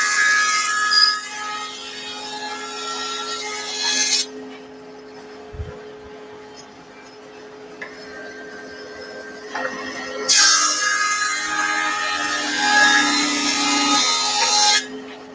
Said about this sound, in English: now I can advance the planer